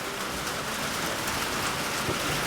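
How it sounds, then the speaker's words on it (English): Steady outdoor rainfall, a dense, even hiss of drops falling continuously and close by with no pauses. "And it's still raining out here"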